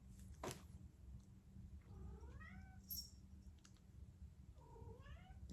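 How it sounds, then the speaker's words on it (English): A cat indoors gives two distinct drawn-out meows, a few seconds apart and moderately close, with light clicking and a low room hum in the background and no one speaking. "You over there meowing."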